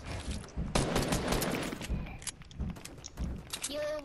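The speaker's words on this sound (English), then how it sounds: "I'm getting shot at" Gunfire aimed at the player in a video game, dense rattling shots and impacts in bursts with pauses, close and loud, followed by a short tonal game sound at the end, with talking woven in.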